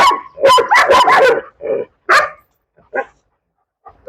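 A dog gives a few short barks and yips during an obedience training session, with separated bursts spread over a few seconds at close range.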